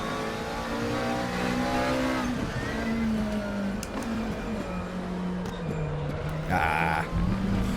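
A McLaren 650S GT3 race car at Paul Ricard in the RaceRoom racing game holds a loud, steady engine drone on light throttle. The pitch rises and falls slightly, with a brief sharper burst near the end.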